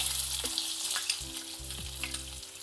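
Chopped onion sizzles steadily in a hot pan, a constant loud frying hiss with occasional stirring scrapes and a low hum running underneath.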